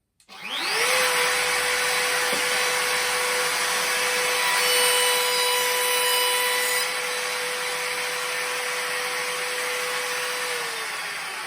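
A Makita RT0700 router spins up and cuts a planed-down piece of 3x2 timber, a loud close steady high whine with the cutting noise held for several seconds before winding down.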